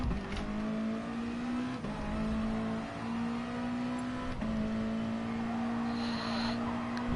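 A race car engine in the Gran Turismo Sport video game holds a steady high-pitched drone with quick shifts and brief dips in pitch as the car works through corners, loud and continuous with no talk.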